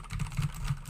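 Quick irregular key clicks from typing on a computer keyboard, close and fairly soft, a short burst with no talking.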